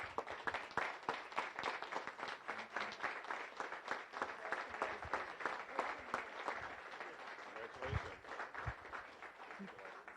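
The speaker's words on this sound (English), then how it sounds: "if everyone would please stand and just welcome him with a nice applause" A Rotary Club meeting crowd stands and applauds a new member, and the dense, even clapping continues for about ten seconds at moderate level before thinning slightly near the end.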